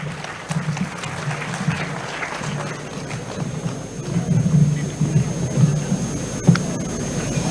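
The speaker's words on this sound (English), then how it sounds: "Let's welcome sir with a huge round of applause." An audience at a pharmaceutical sciences conference applauds a professor being welcomed, producing a broad, sustained wash of clapping that swells slightly toward the end, heard alone in a large hall.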